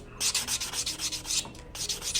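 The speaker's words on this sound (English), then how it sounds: "keep going over the nail just to get it to our desired thickness. And file and file and file." Thick grit file rubbed rapidly back and forth over a dip powder fingernail, a quick run of close, scratchy strokes with a brief pause, and no talking.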